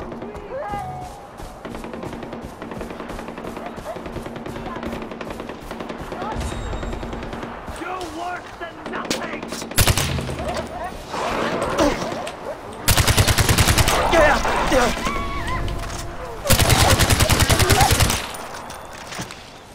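Bursts of automatic gunfire and scattered shots from the video game Far Cry 4, growing loud and dense in two sustained volleys near the end, with a player talking over parts of the firefight.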